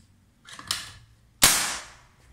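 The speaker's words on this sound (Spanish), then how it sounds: "Vamos a hacer un par de tiros." Two shots from an M22 PCP air rifle, a softer crack followed by a louder, sharper report with a brief ringing tail, close by and with no speech.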